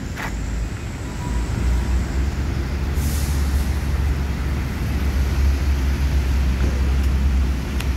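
A Padang bus rumbles past close by with a deep, steady engine drone, and a sharp hiss of air brakes bursts out briefly partway through over constant road noise.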